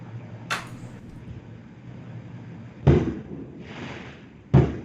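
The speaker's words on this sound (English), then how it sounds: "The fireworks are going off." Fireworks go off outdoors, heard from inside: a whistling launch, then two sharp, loud bangs a couple of seconds apart, with a softer crackle between them against a quiet room.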